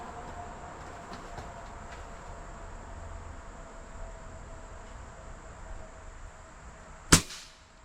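Supersonic airgun shot fired through a Huggett Snipe moderator, a single sharp crack near the end after a quiet stretch of low room noise.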